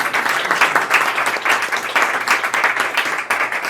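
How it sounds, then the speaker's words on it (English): An audience applauds a speaker at an evening talk on voting reform, with full, close, steady clapping that rises and falls slightly in a sustained round. "big round of applause for Arend"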